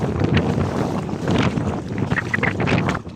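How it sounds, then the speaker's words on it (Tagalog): Powerful outdoor wind in a forest gusts straight across the microphone, a continuous close roar that swells and eases slightly over a few seconds. "Lakas ng hangin dito guys."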